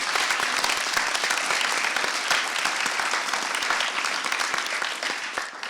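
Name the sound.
audience applause for staff and ushers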